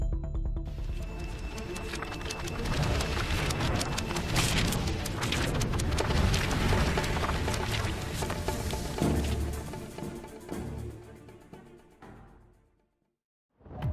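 Heavy rain roars steadily as a dense wash of noise with low rumbling thunder booms mixed in, fading away near the end.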